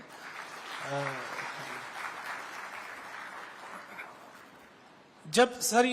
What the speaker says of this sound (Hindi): आप सभी से आग्रह करता हूं कि एक बार जोरदार तालियों से